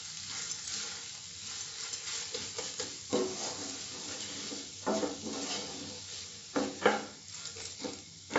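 Boiled eggs are stirred with garam masala, coriander leaves and spices in a hot pan after the gas is turned off, giving a steady sizzle with scraping and clinking strokes at irregular intervals.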